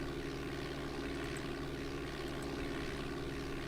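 A Cessna propeller engine in the Flight Simulator 4 game: a faint, steady, droning hum with constant pitch, running alone without change throughout.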